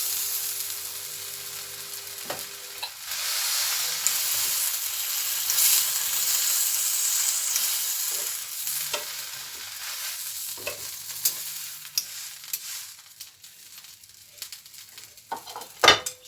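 Fat from Adana kebab meatballs sizzling in a pan on a home stovetop, a steady close hiss of frying with occasional clinks and scrapes of utensils, no talking.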